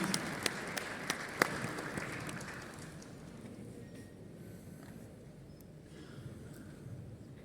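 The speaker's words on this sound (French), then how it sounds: "Sous vos applaudissements, s'il vous plaît" Audience applause at an insurance conference panel in Marrakech, Morocco, with scattered sharp claps at first, settling into a softer steady patter of clapping that continues throughout at a moderate distance.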